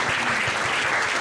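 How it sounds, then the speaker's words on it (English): Brief burst of applause from a conference audience on the final day of an agricultural project conference, dense steady clapping throughout with a faint voice underneath. "I would like to ask an applause for Edina and her team,"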